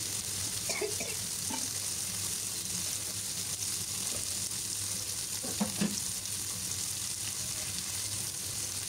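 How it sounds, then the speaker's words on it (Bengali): Fish pieces fry in hot oil with a continuous, even sizzle up close, broken by a few light stirring or turning clicks; no one talks. "এই তো মাছগুলি প্রায় ভাজা হয়ে গেছে।"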